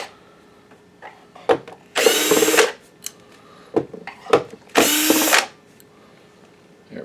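A power screwdriver backs Phillips screws out of a VAVA VA-LT002 ultra short throw 4K laser projector, two loud whirring bursts of about a second each, with small clicks and handling noises around them.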